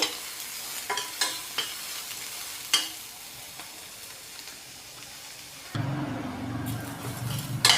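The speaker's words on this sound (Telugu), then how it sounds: "కొంచెం బ్రౌన్ కలర్ వచ్చేంత వరకు వేయించుకోవాలండి ఇవి" Drumsticks frying in a pan until brown, a continuous sizzle under repeated sharp scrapes and clacks of a spoon stirring, close and fairly loud, with the frying hiss swelling stronger in the last seconds.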